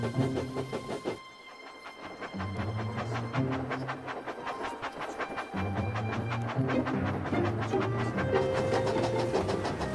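A steam engine chuffs along in a steady, fast rhythm beneath ongoing music, with a brief drop in the middle before the puffing resumes.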